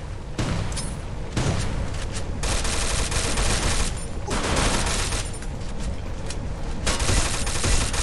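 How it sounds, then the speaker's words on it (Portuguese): Gunfire in the Free Fire video game rattles almost continuously, with dense overlapping volleys and bursts that stay loud and close throughout. "Deu tiro de pistola, rapaz?"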